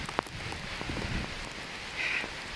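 Steady rain falling outdoors, a soft continuous patter with a few sharper drops landing close by, light and even throughout with no voices.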